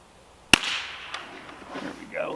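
A single sharp crack from a Ruger American .22 bolt-action rifle during sighting-in at the range, a short loud report with a brief ringing tail, followed by faint background noise.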